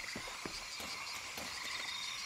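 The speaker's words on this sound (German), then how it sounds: "Oh, ein Frosch." A frog croaks in Shadow of the Tomb Raider, a series of short rhythmic croaks repeating about every half second over a steady ambient jungle wash, faint and without speech.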